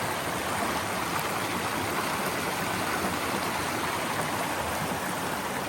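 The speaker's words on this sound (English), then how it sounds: "Look at that waterfall." A waterfall and creek flow beneath a trail bridge, making a steady, loud, unbroken rush of water with no talk over it.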